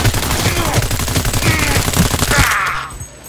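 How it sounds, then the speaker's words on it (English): A big gun in the Cyberpunk 2077 video game fires a loud, sustained automatic burst of rapid, dense shots that carries right up to the last moments, then cuts off into a brief ringing tail. "Whoa, that was a big gun."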